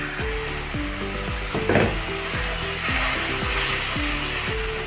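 Potatoes fry with spices in a pan, a steady loud sizzle broken by repeated scraping stirs at a regular rhythm, close and with no talking.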